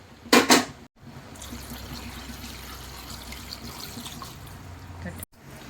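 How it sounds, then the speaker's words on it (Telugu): Water poured into a cooking pot of spiced goat head meat, a steady continuous pour running for several seconds after a brief louder burst at the start. "ఇప్పుడు లీటర్ నీళ్లు పోసుకోవాలి."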